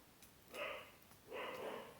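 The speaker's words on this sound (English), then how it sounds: "Can you hear my dog?" A pet dog barks in two short bursts somewhere in the home, muffled and moderately distant, with a quiet pause between them and no talk over it.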